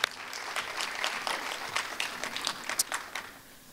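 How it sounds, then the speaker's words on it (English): Applause from a middle school art awards audience for a student winner, a fairly faint, thin patter of clapping with scattered sharper claps, tapering off toward the end. "give her a round of applause"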